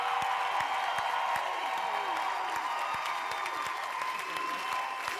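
A studio audience applauds during a Quebec televised variety show, a dense, even wash of clapping that holds steady at a moderate distance for several seconds with no break.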